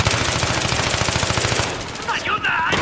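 Automatic rifle fire in the video game Battlefield 3, a rapid, loud, sustained burst of gunshots for most of the moment, then trailing off into scattered distant shots and game noise.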